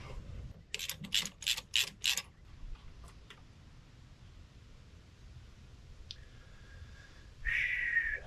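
A ratchet clicks in a quick run of four or five sharp strokes while loosening tight spark plugs on a personal watercraft ski engine, followed by quieter scattered ticks and a brief whirring mechanical burst near the end.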